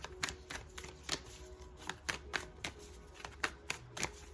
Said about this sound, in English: So let's shuffle and see if anything comes out for you guys.